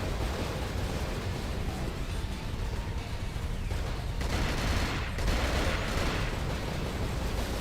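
Enemy gunfire in the video game Cold Fear rattles as a dense, continuous fusillade of shots and crackling bursts, steady and mid-level throughout, with no talk.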